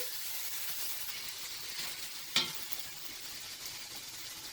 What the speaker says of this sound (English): let that saute for a minute or two